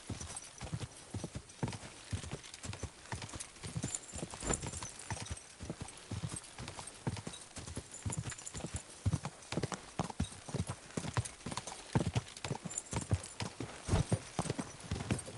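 Rapid, steady clip-clop of galloping horse hooves in Kingdom Come: Deliverance II, loud and close, continuing rhythmically throughout with a faint whinny.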